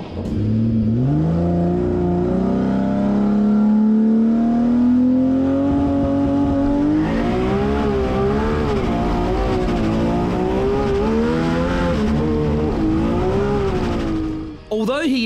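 A Nissan Skyline GT-R drag car making a test pass at the Cootamundra drag strip, its engine roaring loud and close. The pitch climbs steadily as it revs hard, then holds a high, wavering wail before cutting off abruptly at the end.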